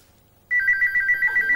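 After a brief quiet moment, a telephone starts ringing with a steady electronic trill, clear and close, with no voices.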